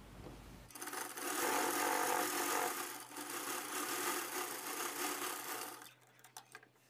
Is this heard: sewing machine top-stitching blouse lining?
yes